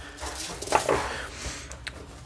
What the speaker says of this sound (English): you guys can probably hear my dog in the background